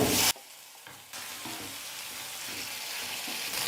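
Tomato sautés in a pan with onion and masala, giving a steady moderate hiss with occasional soft stirring scrapes after a brief loud burst at the very start, with no voices.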